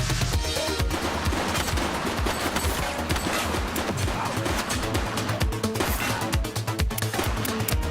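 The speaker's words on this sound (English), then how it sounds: "Shots fired!" Gunfire in the police game The Precinct: dense, rapid bursts of automatic fire and overlapping shots rattle loudly and almost without pause for the whole stretch.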